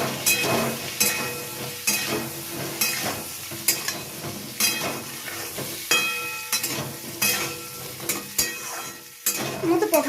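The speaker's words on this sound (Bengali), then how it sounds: "পটলটাকে ভালো করে লাল লাল করে ভেজে নিতে হবে।" Pointed gourd pieces frying with salt and turmeric in a pan, a continuous crackling sizzle broken by repeated clattering stirs and scrapes of a spatula against the metal, loud and close.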